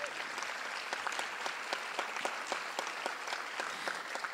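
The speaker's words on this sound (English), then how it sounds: "Please give her a round of applause." Steady audience applause at a technical college commencement ceremony, a dense even patter of many hands clapping at moderate distance with no voices over it.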